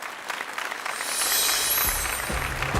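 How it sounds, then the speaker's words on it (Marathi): An audience claps for a woman entrepreneur at a Marathi show, the applause starting thin and building into dense, steady clapping that carries on to the end. "जोरदार टाळ्या त्यांच्यासाठी"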